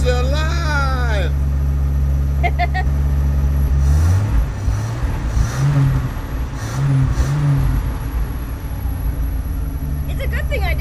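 A car engine in a home garage cranks and catches around the middle, then runs at a steady rough idle close by, with voices talking over it.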